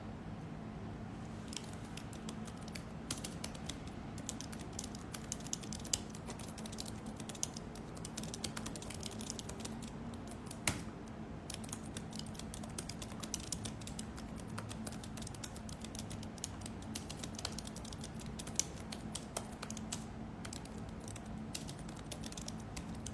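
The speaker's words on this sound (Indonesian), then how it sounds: "Sorry ya, tadi kesela ngetik sebentar." Fingers type steadily on a computer keyboard, producing a long run of rapid, close, irregular key clicks with occasional sharper taps and no voices.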